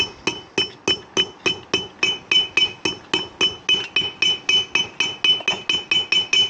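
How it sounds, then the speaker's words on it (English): A hammer taps a wheel bearing into an Indespension trailer hub: about two dozen sharp, ringing metallic strikes at a steady, quick rhythm, close and clear, with no talking. "just tapping it in as evenly as possible"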